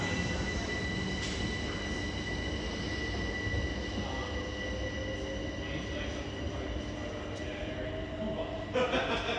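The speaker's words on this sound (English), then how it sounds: "here is the Great Northern Service pair of Class 387s departing now, going from Cambridge to London King's Cross" A pair of Great Northern Class 387 electric trains departs, Cambridge to London King's Cross, with a steady rumble and a rising motor whine, heard at moderate distance and fairly faint.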